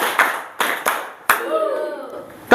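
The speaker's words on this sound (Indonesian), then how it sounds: "Kita mulai dari tepuk." A group claps in sharp bursts during a digital literacy class, with several separate crisp claps spaced apart, each quickly decaying, and a faint voice lingering between them.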